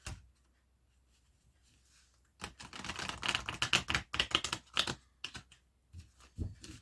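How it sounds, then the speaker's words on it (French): Tarot cards being shuffled by hand at a quiet table, a near, soft burst of rapid riffling and flicking clicks after a brief pause, followed by scattered lighter taps. "Je vais remélanger un petit peu quand même."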